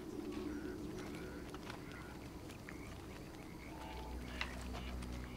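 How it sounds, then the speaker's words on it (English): Birds in the open-world game Red Dead Redemption 2 chirp and coo faintly over a low ambient wilderness bed, with scattered short calls drifting in from a distance. "A lot of birds over there."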